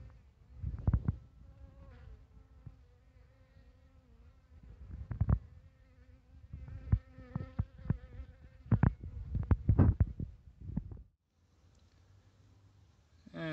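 Buzzing of honeybees flying at a nuc hive entrance close to the microphone in snowy winter, with loud passes and bumps as bees fly by, then a brief quiet stretch near the end.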